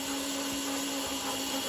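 Razor SX500 electric dirt bike, over-volted to 48V on SLA batteries, with its motor held at full throttle: a steady, loud, high-pitched electric whine that stays constant throughout, with no talk.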